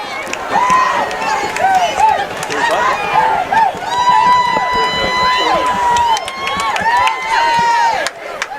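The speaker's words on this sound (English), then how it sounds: "the crowd is on their feet" A high school football crowd at a Portland versus Oxford Hills game cheers and yells after a touchdown, a loud, sustained roar with shouts and whistles rising and falling, while a voice talks over it.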